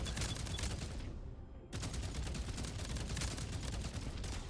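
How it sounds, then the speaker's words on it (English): Dense rapid gunfire from ship weapons in the space game Into the Void, a steady rattling fusillade that briefly thins near the start before resuming at full strength, loud and continuous with no talk. "Opening fire."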